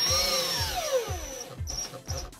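A power drill drives screws into a wardrobe hanging bracket during flat-pack assembly, with a whining motor pitch that falls as each screw seats, then several short repeated bursts of the drill close by.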